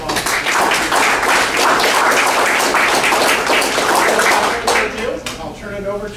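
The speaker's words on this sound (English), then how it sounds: "So let's give them a round of applause." Audience at a veteran services discussion in Dixon, California applauds city council candidates with dense, loud clapping that fades toward the end as a voice begins.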